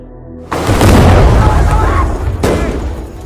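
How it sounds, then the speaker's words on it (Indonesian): Heavy gunfire and explosive booms from a war film ambush by Japanese Nippon troops on Indonesian fighters, a loud dense burst starting abruptly then sustained rumbling blasts with a second sharp crack, voices mixed faintly underneath. "Baku tembak pun terjadi"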